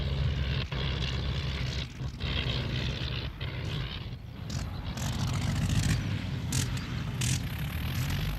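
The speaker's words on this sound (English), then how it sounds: "It's Emma. Mr. Dermot's plane" An early propeller aeroplane engine drones steadily and fairly loud, a rough continuous buzz with low rumble that holds throughout without speech.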